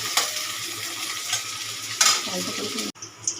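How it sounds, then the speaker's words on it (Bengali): Sliced onions fry in hot oil to make crisp browned onions for paneer biryani, a loud continuous close sizzle with spatula stirring and scraping strokes against the pan, ending in a sharp cut. "এবারে আমি পেঁয়াজটা ভেজে একটু বেরেস্তা বানিয়ে নেবো"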